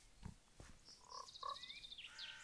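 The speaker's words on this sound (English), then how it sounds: "more frogs" A few faint frog croaks from a video game (Terrafirmacraft) in a quiet setting, with high chirping calls following, brief and sparse.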